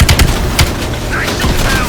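Rapid gunfire bursts loudly in Call of Duty: Black Ops Cold War, sharp automatic shots crowding the first half-second, then sporadic shots under a continuous battle rumble.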